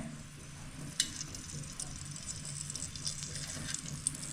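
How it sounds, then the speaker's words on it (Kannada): Hot oil sizzles steadily with light crackling spices as a tempering is made, a sharp pop standing out early, close and moderately quiet with no voices. "ಸೊ ಅದಕ್ಕೆ ಒಗ್ಗರಣೆ ಮಾಡ್ಕೊತಾ ಇದ್ದೀವಿ"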